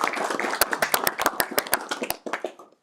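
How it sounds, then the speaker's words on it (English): A small audience gives a brief round of applause at a security-leaders roundtable, sparse individual claps landing unevenly, fairly close and loud, then thinning out after a couple of seconds. "Can we give a round of applause to"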